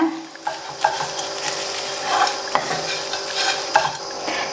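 A spoon stirs a spiced kolukattai rice mixture in a pan, giving repeated scraping strokes and soft clinks over a faint sizzle, close and fairly loud, with no voices.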